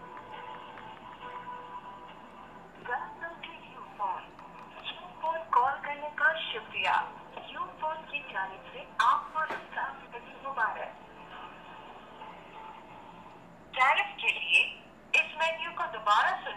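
An HTC Explorer smartphone plays a call through its loudspeaker, a thin, tinny sound with bursts of voice-like chatter and tones from a small speaker. It goes on steadily over several seconds at moderate loudness.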